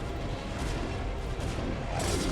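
Photon cannons firing on tanks in a StarCraft match, a dense run of booming blasts and impacts overlapping in a continuous rumble of battle noise.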